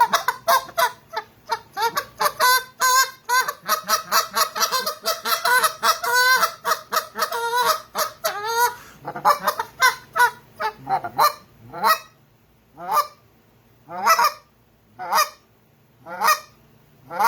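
A goose call is blown in a long run of rapid honks, then slower spaced single honks and clucks, loud and close, with no talking.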